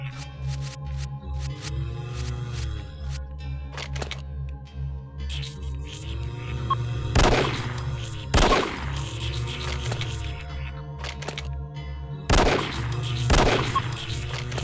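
Shotgun blasts in the horror game After Dusk, several loud sharp booms spaced a second or more apart, close and punchy over a droning game background.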